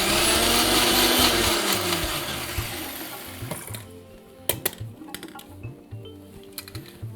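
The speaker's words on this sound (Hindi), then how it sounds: "तो ये चटनी आप चाहें तो इसको थोड़ा सा कोर्स यानी कि दरदरा पीसें" A kitchen blender grinds chutney loudly and steadily for about three and a half seconds, then cuts out, leaving scattered clatters and knocks as the jar settles.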